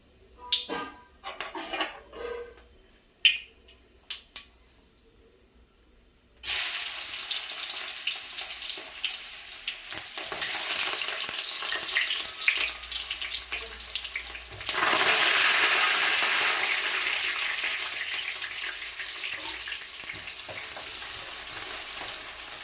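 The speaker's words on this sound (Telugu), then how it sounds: "జీలకర్ర కొంచెం వేగిన తర్వాత ఉల్లిపాయలు వేసుకోవాలి" Onions and cumin seeds fry in hot oil in a pan, giving a loud, steady sizzle that starts abruptly after a few sparse clicks and surges again partway through as more ingredients go in.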